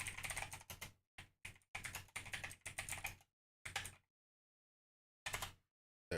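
Bursts of clicky typing on a computer keyboard, clustered keystrokes separated by silent pauses, close and fairly quiet with no talking.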